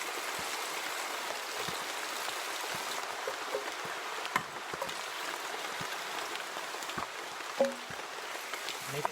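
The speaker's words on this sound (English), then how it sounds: "Maybe it's just a short shower" Rain shower pattering steadily outdoors along a wet walking trail, a broad continuous hiss with scattered close drops, fairly faint and without talk.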